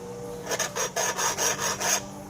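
Rhythmic rasping strokes of a file across the hardened tip of a heat-treated steel shuriken, about six close, bright scrapes in steady succession with no talking.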